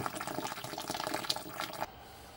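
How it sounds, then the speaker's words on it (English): Hot sparge water at about 82 degrees pours onto the grain bed of a homebrew beer mash, a faint continuous splashing rush that stops abruptly near the end. "Okay, second batch sparge is a go."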